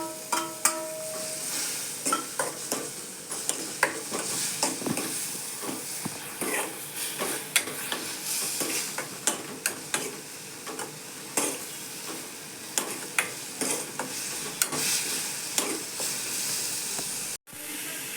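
Washed dried anchovies sizzle in hot oil in a pan, with a steady frying hiss broken by frequent sharp scrapes and clacks of stirring, close and with no voices.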